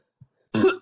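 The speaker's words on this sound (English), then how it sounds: "sorry about the coughing" A single short, close cough, preceded by a faint tiny sound in an otherwise quiet room.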